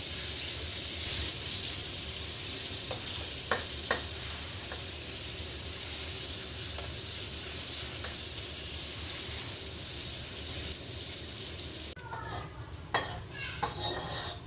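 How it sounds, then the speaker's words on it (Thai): Pork belly frying in fish sauce gives a steady, close sizzling hiss, with occasional clinks and scrapes of a utensil against the pan and a brief burst of clatter near the end. "ต่อไปก็จะทอดสามชั้น สามชั้นทอดน้ำปลานะ"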